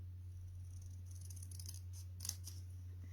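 Scissors cut freehand through card to shape Christmas baubles. Quiet, short snips cluster in the middle over a low steady electrical hum.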